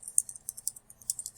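A name typed on a computer keyboard: a short, quiet run of light, clicky keystrokes in an irregular patter, close and isolated against near silence.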